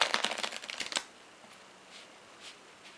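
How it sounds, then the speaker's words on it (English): Playing cards riffle-shuffled in a quick, crisp burst of flutters lasting about a second, then near silence. "I can shuffle the cards."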